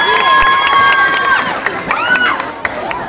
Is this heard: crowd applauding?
yes